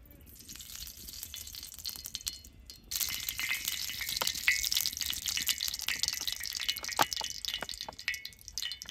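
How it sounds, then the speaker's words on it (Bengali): Cooking oil is poured onto a hot tawa before frying fish. A quiet stretch gives way to a sudden, steady crackling sizzle with sharp pops, close and moderately loud, with no talk. "তাটা গরম হয়েছে, তেলটা দিয়ে দিব।"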